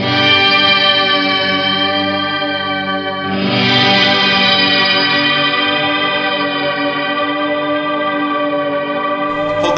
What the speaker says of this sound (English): Multifunction reverb pedal that's got some really nice sounds to it.